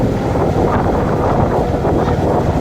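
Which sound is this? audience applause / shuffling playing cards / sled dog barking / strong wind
strong wind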